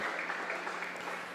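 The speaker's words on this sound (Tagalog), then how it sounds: "Minamahal, malakas na palakpak para sa ating buhay na Diyos" A church congregation claps loudly in praise during a worship service, a dense, even patter of many hands heard at a moderate distance with no voices.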